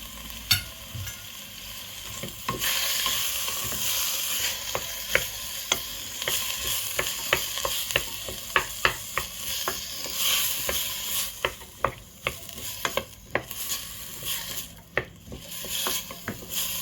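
Carrots and spinach sauté in a pan for a meatless rice dish, a steady close sizzle broken by repeated sharp clicks and scrapes of stirring, with no talk.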